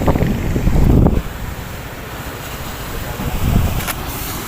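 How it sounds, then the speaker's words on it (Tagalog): Big sea waves and gusting wind buffet the microphone close-up on a boat heading to a fishing spot, a strong surge at the start and another swell near the end, with no one talking. "Malalaki alon."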